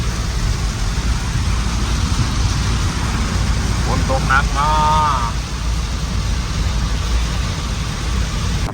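Heavy rain hisses steadily against a vehicle while it drives along, with a constant road and engine rumble underneath. A short tonal sound breaks in near the middle, and someone talks over parts of it.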